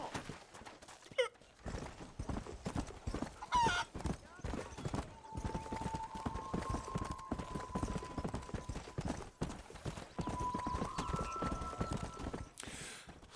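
Horse hooves clop in a steady trotting rhythm in Red Dead Redemption, moderately loud, with a faint whinny and tonal game sounds drifting in over the top.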